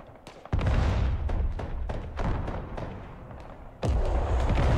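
Artillery fire in the Broken Arrow combat game: repeated heavy booms and thuds, several loud blasts in a fast irregular barrage, with a big near impact at the start and another toward the end.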